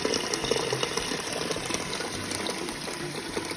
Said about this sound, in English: Now I'm filling up 2 large pots with water,